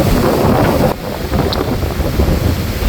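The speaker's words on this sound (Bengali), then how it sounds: "দেখতে পাচ্ছেন স্রোত কিন্তু এখনও প্রবল স্রোত রয়েছে" Strong tidal current rushing through a mangrove forest channel during a flood tide, where long nets are hauled for tengra catfish; a steady, loud broadband wash of water with wind buffeting the microphone, continuous and without talk.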